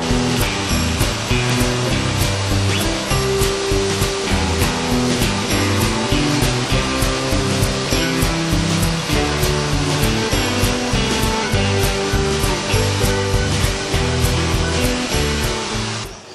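A cordless drill with a small crown bit grinds excess plastic off a Chery QQ plastic bumper, a continuous loud whirring grind with slight rhythmic pulsing and no pauses or talk.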